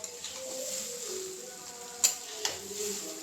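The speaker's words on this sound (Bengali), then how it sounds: "তো এবারে সব কিছুটাকে আবারও ভালো করে মিশিয়ে নেব।" Homemade chow mein seasoned with Maggi masala is stirred and tossed in a pan, a soft scraping and faint sizzle with a couple of sharper clinks of the utensil against the pan, quiet and close.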